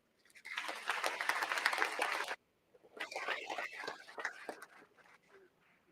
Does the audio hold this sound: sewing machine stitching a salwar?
no